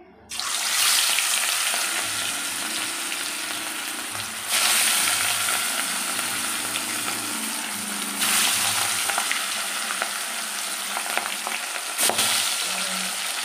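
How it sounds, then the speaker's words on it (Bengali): Katla fish pieces sizzling loudly in hot oil, a steady crackling hiss with a few bursts of louder spitting and scraping. "দেখো এই তেল গরম হয়ে গেছে, এবারে মাছগুলোকে আমি ছেড়ে দেবো একে একে।"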